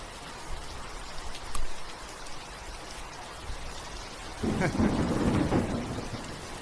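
Rain falling steadily with low thunder rumbles, one swelling louder near the end.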